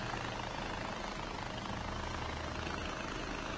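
Small helicopter flying overhead in the video game Far Cry 4, a steady broadband rotor-and-engine wash that stays even and moderately distant throughout, with no voices.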